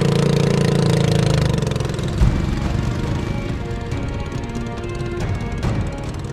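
Outboard boat engine running on a lake in the middle of a fishing village with no dry land, a steady, loud mid-pitched drone throughout with a brief knock-like bump partway through.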